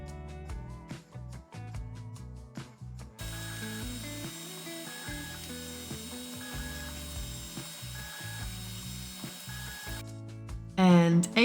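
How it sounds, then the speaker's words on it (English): 3D printer printing: mechanical whirring and clicking of stepper motors in short rhythmic bursts, with steady tonal motor whine, close and moderately loud, no voices. "move on to our 3D printer"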